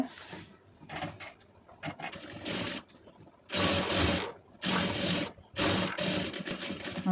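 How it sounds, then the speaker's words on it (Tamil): A sewing machine stitches the lining into an aari work blouse. It runs in several close, loud bursts of rapid mechanical whirring, with short quiet pauses between them. "கரெக்டாக லைனிங்கை உள்ளே வச்சு நம்ம எப்பவும் அடிக்கிற மாதிரி கரெக்டாக தையல் ஓட்டிடுங்க"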